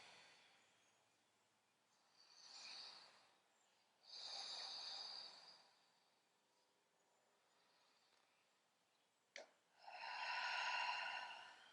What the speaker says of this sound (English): take a couple of just beautiful, big, powerful breaths in and out of the nose